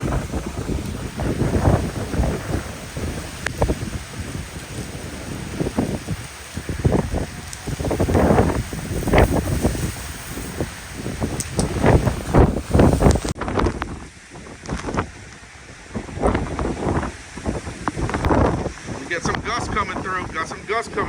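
Hurricane wind gusts buffet an outdoor microphone with heavy, rumbling surges that rise and fall in waves, loud and roaring, easing briefly before swelling again.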